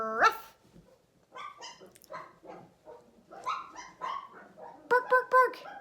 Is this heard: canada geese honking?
no